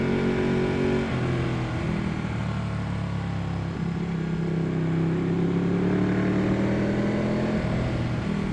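A Ducati 1199 Panigale sporting a continuous loud engine drone while riding, with engine pitch rising and falling as the rider changes speed, heavy wind rush throughout.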